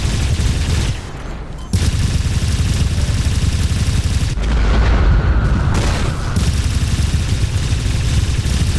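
Loud booming blasts from space mines detonating on an enemy ship in the Roblox game Space Wars, a continuous rumbling barrage with a brief dip before more heavy explosions roll in.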